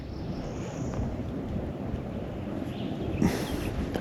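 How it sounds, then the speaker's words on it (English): Wind blowing over a small fishing boat on a south Georgia panfish water, a steady, close rushing buffet of wind noise with a brief louder gust near the end. "the wind's blowing us right in the shellcracker hole"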